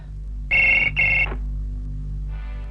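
An old-style telephone bell rings twice in quick bursts, then a fainter ring begins, close and clear over a low hum.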